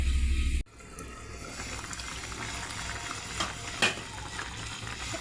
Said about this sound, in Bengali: এই যে মশলাটা নিয়েছি, এটা এইভাবে ভেজে দিলে রান্নাটা খেতে ভালো লাগে।